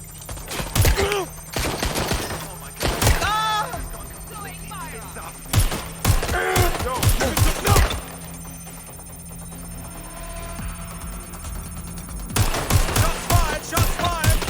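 Gunshots in Watch Dogs Legion: several sharp, loud bursts of rapid fire in clusters with pauses between, mixed with game effects and talk.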